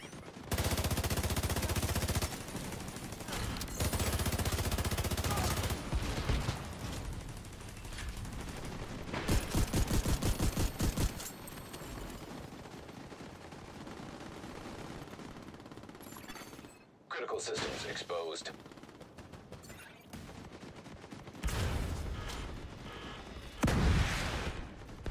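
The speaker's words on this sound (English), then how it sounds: "I can easily shoot the Junker from up here and dodge the mortars" Bursts of gunfire and mortar blasts in a video game come in uneven clusters of rapid shots and heavy thuds, with short gaps between the volleys.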